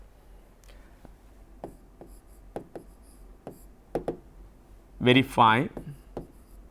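Chalk or marker taps and scratches on a classroom board as a differential equations question is written, a series of sharp separate strokes spread out over the clip, followed by a brief burst of speech.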